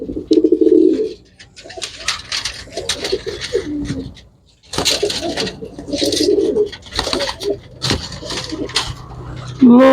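Big pigeons coo loudly at the start and again near the end, with someone talking at length in between and over the birds.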